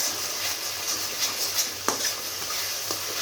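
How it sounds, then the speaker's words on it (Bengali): Masala spices frying in oil with salt and turmeric for a mixed-vegetable fish curry, a soft steady sizzle with occasional light scrapes of a stirring spoon, close and quiet with no voices. "এবার মশলাটা ভালোভাবে কষিয়ে নিতে হবে"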